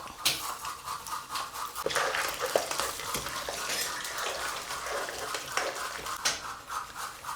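Green chillies frying in hot oil in a pan along with peanuts and lentils, giving a steady close sizzle with crackling pops and occasional stirring clinks, no talk.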